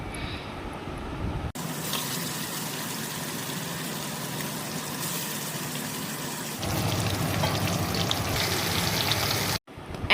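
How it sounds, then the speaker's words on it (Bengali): Hilsa fish pieces fry in oil in a kadai with a continuous, dense hiss that starts abruptly, swells louder partway through, then cuts off briefly near the end. "ইলিশ মাছগুলো সুন্দর করে সাজিয়ে সাজিয়ে তেলের উপরে দিয়ে দিচ্ছি"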